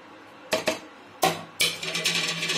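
A spoon stirring jaggery into rice kheer in a pot off the flame, three distinct scraping clinks against the metal followed by a run of quicker, lighter stirring taps, close and clear.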